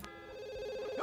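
A telephone rings in The Sims video game, one steady electronic bell tone held alone for about a second, fairly quiet, with a brief rising chirp at the end.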